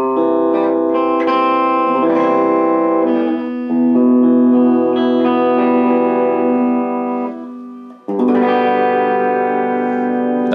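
An electric guitar played hard through its clean pickup, the back cavity still open, rings out in bright sustained chords and single notes that stay clear and undistorted, with a brief gap before a final strummed passage.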